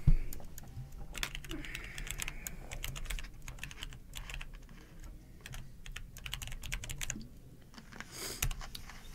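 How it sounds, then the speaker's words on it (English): Quick, uneven clatter of keys being typed on a computer keyboard, fairly close and steady throughout, with a faint murmur of background voices underneath. "just type it out."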